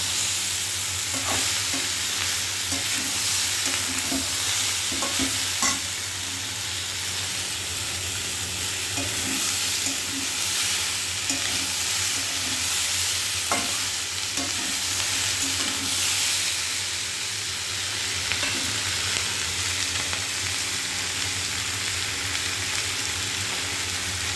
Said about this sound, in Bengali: এবার একটু নাড়া দিয়ে নেবো আবার।